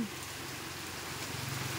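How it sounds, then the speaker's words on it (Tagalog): Heavy nighttime rain in Lopez, Quezon, in the Philippines makes a faint, steady wash of dense drops with no breaks, heard alone and from a distance. "di kami makatulog kasi ang lakas ng ulan."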